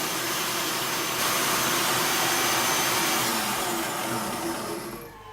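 An electric mixer whips multicolored meringue at high speed with a loud, continuous whirring drone that holds steady for several seconds and then eases off slightly at the end.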